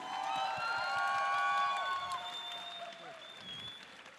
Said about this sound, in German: ihr seid noch ein bisschen zögerlich mit eurem Applaus